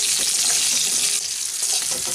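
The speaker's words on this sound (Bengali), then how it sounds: "এখন আমি তেলের মধ্যে সজনে ডাঁটাটা খুব হালকা করে একটু নাড়াচাড়া করে এই উচ্ছে আর ডাঁটাটাকে নামিয়ে নেব।" Drumstick pieces and bitter gourd sizzle steadily in hot oil, a loud continuous frying hiss with soft stirring scrapes from the pan, heard without talk.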